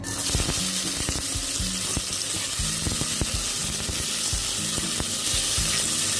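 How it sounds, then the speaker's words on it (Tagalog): Tomatoes sautéing in a pan for sweet and sour lapu-lapu, a steady loud sizzle with watery bubbling and repeated stirring scrapes and clinks throughout, close up with no talking. "Unahin po nating igisa ang ating kamatis."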